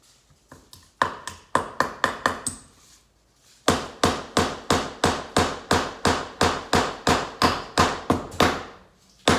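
A hammer drives nails into a wooden board for children's string art, striking in quick regular bursts of sharp close taps, with a short pause mid-way before a steady run of evenly spaced blows.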